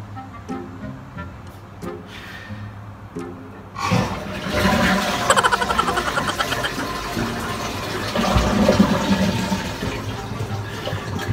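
A toilet flushes in a public restroom in Japan: after a few quiet clicks, a loud close rush of water surges and keeps churning for several seconds.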